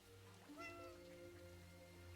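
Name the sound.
cat meowing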